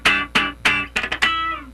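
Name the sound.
funk guitar straight 8th notes with 16th note triplets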